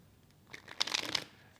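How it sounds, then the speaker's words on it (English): A deck of tarot cards gets a single quick riffle shuffle, a brief crisp flutter of cards close by in an otherwise quiet room. "So, one more shuffle, and I'm going to go straight into this reading."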